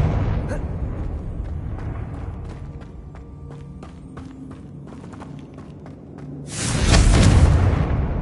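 A Confringo blasting spell erupts in Hogwarts Legacy, a deep rumbling blast that swells near the end after a stretch of lower crackling impacts and thuds.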